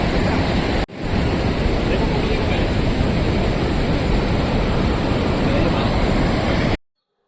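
Athirappilly waterfall pours down in a steady, dense roar of rushing, spraying water, loud and close, briefly cut near the start and stopping abruptly at the end.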